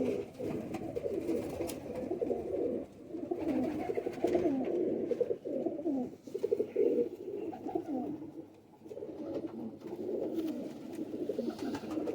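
Soft, continuous cooing of several Shekhon wale and Faqeer Gull cross pigeons, low and throaty, rolling on with brief pauses and no voices.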